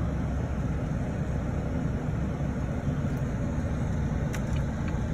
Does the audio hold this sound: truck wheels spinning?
yes